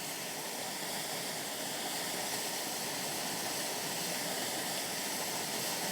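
Grey Mare's Waterfall in the Scottish Borders pours in a steady, even broadband rush, soft and constant throughout with no voices or breaks.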